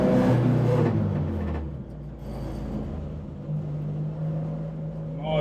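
A car out on a quick test drive after brake bleeding, its engine and road rumble droning steadily from inside the cabin, with a low tone that shifts as it changes speed.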